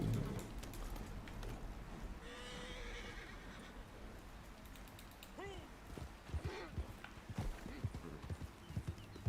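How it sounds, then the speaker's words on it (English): A horse in the video game Red Dead Online gallops with rhythmic clip-clop hoofbeats and lets out a whinny partway through, while someone talks over the game sound. "Oh, another crazy horse."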